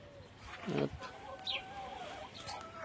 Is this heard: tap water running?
no